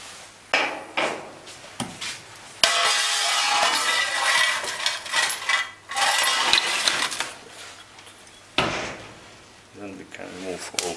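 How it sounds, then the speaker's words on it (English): Metal parts of a Bosch common rail injector being handled as its axial clamp is removed during disassembly: loud, close clicks, clanks and scraping in irregular bursts, with a steady tonal hum underneath and a person talking at times. "For this we can remove axial clamp."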